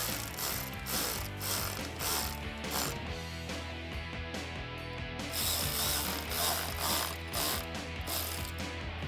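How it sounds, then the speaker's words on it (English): Ratchet with an 8mm socket tightening the clamps of a K&N Series 69 Typhoon cold air intake on a 5.7L Dodge Challenger, rapid close clicking in repeated bursts of short strokes, loud and alone with no voices. "I'll use my 8mm socket on my ratchet and just work one by one."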